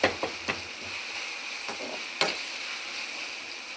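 Onions and tomatoes softening in a pan over steady sizzling, with a few sharp scrapes of a spoon early on and one more clack midway.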